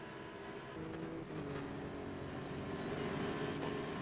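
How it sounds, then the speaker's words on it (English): A Lamborghini engine in a racing video game on the Sebring circuit, a steady sustained drone with slight rises in pitch, mid-level and continuous, no voices. "I can hear a fucking Lambo"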